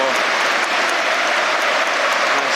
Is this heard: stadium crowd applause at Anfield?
yes